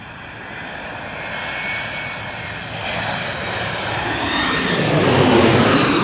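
A fixed-wing airliner comes in high to land, passing low overhead: a broad jet roar that swells steadily louder and brighter over several seconds, dominating the scene with no talk.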